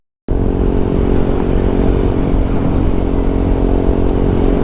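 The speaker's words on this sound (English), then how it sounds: "I'm wide open throttle now." A KTM 390 Duke motorcycle at wide open throttle, a loud, steady, close engine roar that starts abruptly and holds full power without a break.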